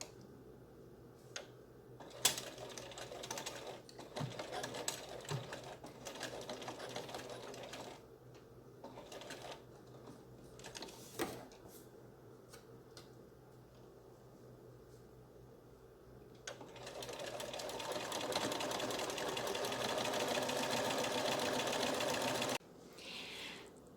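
A sewing machine stitches a zipper into a tote bag in bursts of rapid mechanical whirring with short pauses between runs, then settles into a longer, steadier, louder run near the end.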